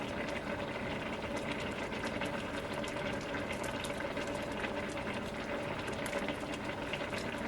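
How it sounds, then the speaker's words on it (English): A pot of water at a rolling boil for cooking noodles gives a constant close bubbling hiss that stays even throughout, with no voices. "It's got a nice boil going now."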